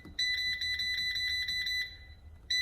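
An air fryer beeps as it is set, giving a rapid run of bright, evenly spaced electronic tones that stops briefly and then starts again at the end, close and clear with no talk.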